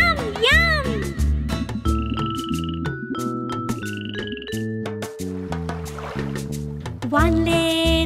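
A speckled frog croaking in a children's nursery rhyme song, several distinct croaks mixed into bouncy music with sung melody running alongside.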